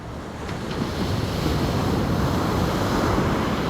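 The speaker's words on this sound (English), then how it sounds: "listening to the ocean, listening to the natural flow" Ocean surf on a California beach, a continuous broad roar of breaking waves swelling slightly, heavily mixed with gusty wind buffeting the microphone, no voices present.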